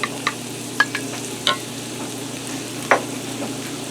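Diced Roma tomato goes into a skillet of sizzling Southwestern corn, a low steady sizzle broken by a handful of sharp clicks and scrapes from stirring.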